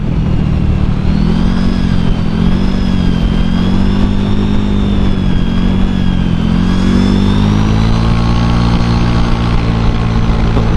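A Honda Vario 125 scooter on a test ride drones loudly and steadily from close by, its engine pitch rising and sagging with throttle changes over constant wind rush.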